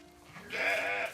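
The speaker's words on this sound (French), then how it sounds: "Installée en Creuse, Eliane Mérias élève ses moutons pour leur viande" A sheep on a farm in the Creuse raised for meat gives a single drawn-out bleat that swells and holds, fairly close, with no speech over it.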